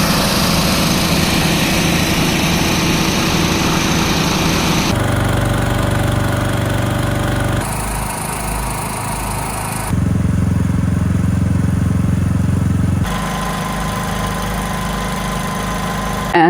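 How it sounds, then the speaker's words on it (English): Many power generators running along a street during a blackout in Ukraine, a loud, steady, droning engine hum that shifts in tone as different units dominate, continuous with no pauses. "you can hear a lot of power generators are working."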